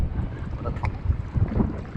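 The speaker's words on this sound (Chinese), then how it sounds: "那个海风5、6级还是有点大哦" Strong sea wind of force five to six buffets a rocky shoreline at low tide, giving a rough, gusting rumble with microphone wind noise and faint water movement.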